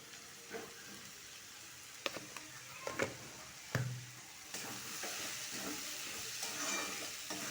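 Sliced onion frying with salt in a hot pan gives a steady, close sizzle with scattered crackles and a few sharp stirring scrapes and clinks, and no voices.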